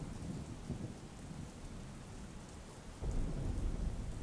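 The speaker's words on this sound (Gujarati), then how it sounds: "તો આ તરફ જૂનાગઢના મેંદરડા તાલુકામાં ધોધમાર વરસાદ ખાબક્યો।" Heavy downpour in Mendarda taluka, Junagadh, Gujarat, a dense steady hiss of rain with low rumbling that swells louder partway through, no voices.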